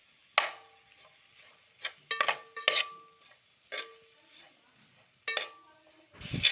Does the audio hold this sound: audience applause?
no